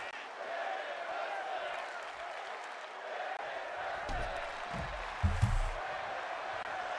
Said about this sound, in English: The crowd here in Indianapolis getting fired up over the matchups, cheering on the women's wrestling